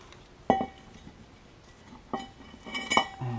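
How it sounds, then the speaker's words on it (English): A car brake rotor slides off the wheel hub during a wheel stud job, giving a few sharp metallic clinks and scrapes spread over a few seconds, close and fairly quiet, against a hushed garage background. "Now the rotor slide off."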